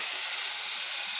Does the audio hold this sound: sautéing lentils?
yes